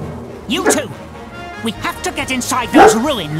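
A real dog barks in the room, giving several yappy, whimpering barks over video game dialogue from Drakengard 2, with the game's characters speaking throughout.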